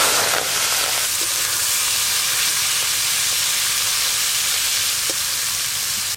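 Shrimp coated in salt and turmeric fry in oil with a loud, continuous close-up sizzle and hiss, steady throughout with faint stirring ticks.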